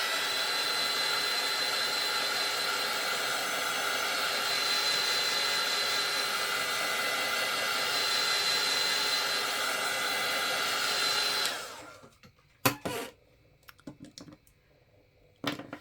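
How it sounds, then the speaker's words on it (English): A heat gun blows on a small handmade art piece, a steady loud whooshing roar for about eleven seconds before it shuts off, followed by a few sharp clicks and handling knocks in near silence. "I'm going to hit it with the heat gun again"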